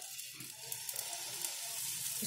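Moong dal chila batter spread on a hot pan sizzles softly, a faint, even hiss with a few small crackles, fairly quiet and without voices.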